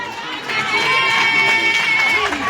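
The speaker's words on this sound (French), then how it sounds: "Amiens, on applaudit pour qui?" Crowd in Amiens applauding and cheering at a festive event, a loud continuous mass of clapping and shouting voices that swells and holds steady throughout.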